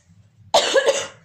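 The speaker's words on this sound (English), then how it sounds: "See that yucky cough?" A single harsh cough bursts out close to the mic and rasps on for most of a second, then trails into a quieter exhale over low background hum.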